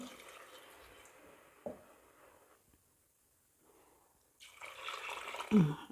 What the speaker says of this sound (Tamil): இப்போ தேவையான அளவு தண்ணி சேர்த்துக்குவோம்